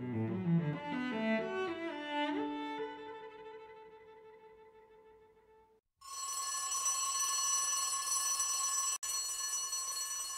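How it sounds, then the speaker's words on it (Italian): An alarm bell rings insistently and loudly after a few fading chime-like tones, continuing without pause to the end. "Dietro di noi il campanello d'allarme squillava con insistenza"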